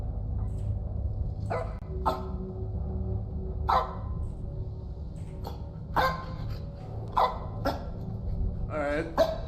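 A dog barks in short, sharp bursts at irregular intervals, fairly close, over a low rumbling background.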